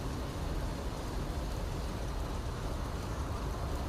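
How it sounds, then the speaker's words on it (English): Steady rain falling in the post-apocalyptic video game Fallout 4, a dense, even hiss of drops that stays constant and fairly faint throughout, with no talk over it. "Oh look, it's raining, so that means it's going to be raining inside."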